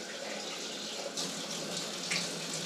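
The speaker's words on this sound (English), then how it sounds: "I'm just going to run this under water." Kitchen tap water pours steadily while an AeroGarden bowl is rinsed under it, a continuous close hissing splash with small shifts as the bowl moves, and no talking.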